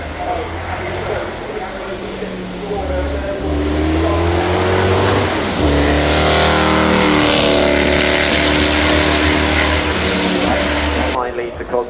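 A Cosworth V12 race car engine revs and accelerates at Goodwood Festival of Speed, loud and close, with the pitch rising and falling through gear changes while someone talks over it.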